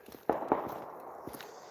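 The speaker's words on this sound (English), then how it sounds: "firecrackers." A few sharp firecracker pops crackle at a distance outdoors at night, two louder bangs close together followed by smaller scattered snaps, with no talking.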